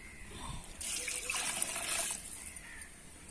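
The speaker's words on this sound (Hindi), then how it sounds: "पानी कितना डालना है? 3 मग।" Water poured from a mug during outdoor cooking of a homemade meal, a short steady splashing pour lasting a couple of seconds and heard alone, close and moderately loud.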